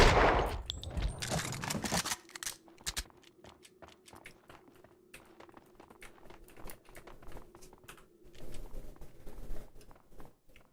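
A burst of loud gunfire in the game Max Payne 2 opens, then scattered sharp shots and rapid clicks continue over a low steady hum, with no voices.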